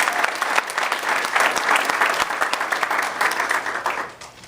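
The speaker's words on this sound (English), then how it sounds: "So let's give a round of applause for all of you." Banquet audience at an Arbonne event breaks into full, dense applause, many hands clapping steadily and close, then tapering off toward the end.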